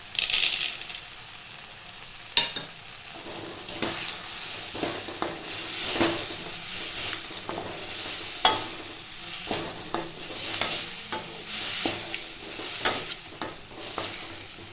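Peanuts and chili powder stirred in a frying pan for groundnut masala, with steady scraping strokes and light rattling of nuts against the pan over a soft background sizzle, close and moderately loud.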